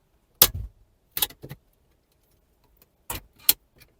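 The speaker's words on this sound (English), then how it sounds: "then we're going to need some stereo keys. These go in this way into the slots there." Stereo removal keys click and rattle as they slide into the slots of a car stereo, a few short sharp metallic clicks in two separated pairs with quiet gaps between.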